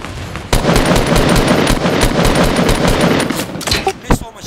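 Loud, sustained automatic gunfire from Fortnite rattles steadily for several seconds in a rapid stream of close shots, then breaks into a few separate reports near the end. Faint voices sit under it.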